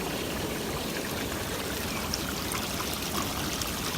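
Water rushes steadily from the jets of a Cove Jubilee 36-jet hot tub, with air drawn in through the venturi. The loud churning hiss is constant and close, with no talking.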